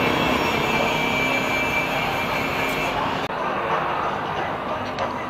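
Loud, steady engine drone from a Suzuki Smash motorcycle at a muffler shop, running a Raider 2.5 open pipe, with a sustained raspy roar filling the clip and talk faintly mixed in.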